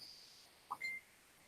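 A mobile phone notification beeps indoors: two quick, faint electronic tones in succession against a quiet background hum.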